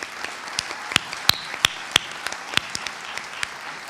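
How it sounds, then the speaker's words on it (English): An audience at an election-night gathering and annual general meeting applauds with scattered, sparse claps, fairly faint in a large room. "We just keep getting applause."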